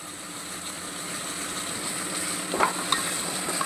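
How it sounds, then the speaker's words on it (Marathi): Turmeric masala cooks in hot oil while being stirred, giving a continuous sizzle with a couple of scraping, clinking utensil strokes near the end. "हे मसाला चांगला असं शिजवून घ्यायचा तेलावर."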